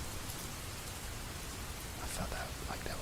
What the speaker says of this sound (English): Yeah, it's a rainy window.